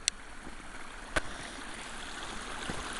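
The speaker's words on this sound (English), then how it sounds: "So here is the stream that I was telling you about" An outdoor stream flows with a continuous, even wash of water sound, steady and moderately faint, broken by a couple of brief clicks.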